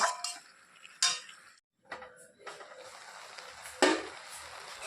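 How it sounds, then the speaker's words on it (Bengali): Spinach curry with lentil dumplings and sugar stirred in a metal pan, scraping and clinking of a spatula against the pan in uneven strokes with a brief pause, close and fairly quiet, faint sizzle underneath. "চিনি দিয়ে আবার একটু নেড়ে নেড়ে দিচ্ছি"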